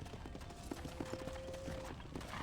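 Horse hooves clip-clopping in the Red Dead Redemption video game on a ranch: quiet, irregular hoof knocks at moderate distance beneath a steady ambient bed, with a faint sustained tone partway through.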